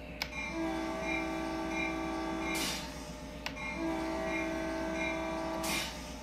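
A Caltrain locomotive in the game Train Sim World 2 sounds two long, loud horn blasts, each held for about two seconds over a low idling rumble, with a brief pause between them.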